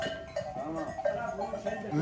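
Merino sheep with ewes and young lambs bleat close by on a farm, several overlapping calls in quick succession, with a faint bell and some background voices.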